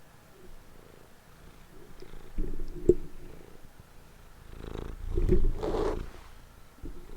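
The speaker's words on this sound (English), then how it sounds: "You can hear him purring." A cat purrs right up against a microphone, a low rumbling that swells and fades in two or three close, loud bursts over a quiet background.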